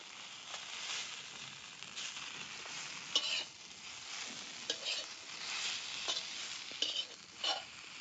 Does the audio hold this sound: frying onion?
yes